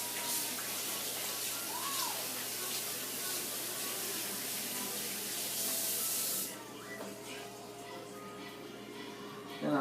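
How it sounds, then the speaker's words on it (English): Tap water runs steadily into a sink for hand washing while smoking a brisket, a fairly quiet hissing flow that stops abruptly after about six seconds, leaving faint background noise. "Let me wash my hands."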